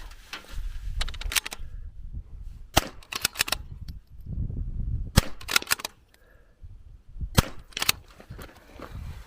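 Zermatt Rim-X .22LR bolt-action rifle fired during an NRL22 match stage, several sharp cracks in separate bursts with quiet gaps and handling noise between shots, fairly close.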